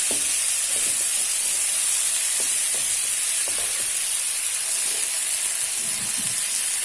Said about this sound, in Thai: แล้วก็คนให้เข้ากันอีกรอบนึงจ้ะพี่น้อง